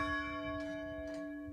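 A single church bell rings with a long sustained tone, moderately faint over low background rumble during a Sunday morning service.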